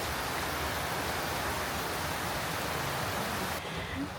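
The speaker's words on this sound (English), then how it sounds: "It's been raining all morning and it's still raining all afternoon." Steady rain falls in Ubud, Bali, heard from a hotel balcony as a dense, even hiss that continues unbroken and eases slightly near the end.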